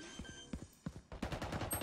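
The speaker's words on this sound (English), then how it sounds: "I accidentally shot you instead of him" Sharp gunshots from a Valorant match, several quick close cracks in a short burst, loud and dry with no talk over them.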